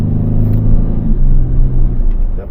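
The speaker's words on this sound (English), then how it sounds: "Yep, shifts 3 gears." A used car's engine idles with a steady low rumble, the tone stepping down as it shifts through gears, loud and close with no talking.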